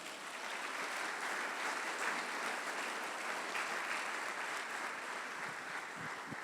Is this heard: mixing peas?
no